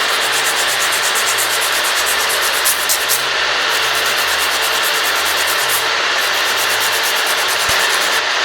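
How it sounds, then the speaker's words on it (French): A fingernail being shaped with a 180 grit nail file, giving a steady, close, continuous dry rasping scrape with a quick back-and-forth texture and no talking. "je prends ma lime grain 180"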